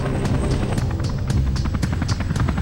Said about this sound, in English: an odd-looking double-rotored chopper capable of carrying heavy cargo and more troops than its predecessor